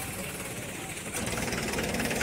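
A Swaraj 855 tractor engine runs at a tractor market in Barnala, a dense, rough mechanical drone that grows slightly louder and coarser partway through.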